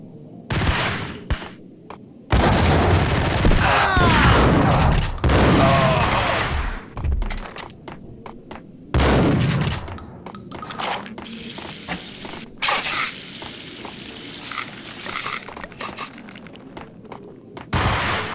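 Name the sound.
gunfire in the video game Max Payne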